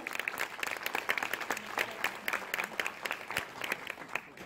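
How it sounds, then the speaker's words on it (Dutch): An audience at a symposium applauds a guest, with many hands clapping in a crisp, lively patter that carries at moderate volume throughout. "een groot applaus voor Demi."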